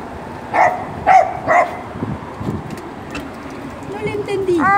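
A dog barks three times in quick succession, fairly close, then softer noises follow and a person speaks briefly near the end.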